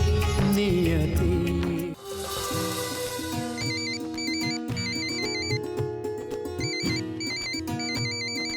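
A melodic electronic telephone ringtone plays repeatedly over music in a Hindi TV serial, its bright repeating tones chirping in a steady rhythm, fairly loud and close.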